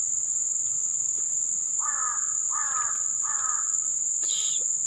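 A crow caws three times in quick succession in an oil palm plantation, fairly clear and mid-distance, over a constant high insect whine and faint background chirps.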